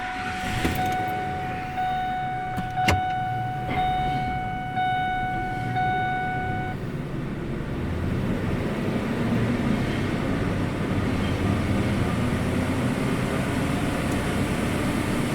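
A homemade DIY tire balancer spins a tire, giving a steady, continuous mechanical whir and broadband hum at constant loudness throughout, with a brief clatter and a few tonal rings near the start.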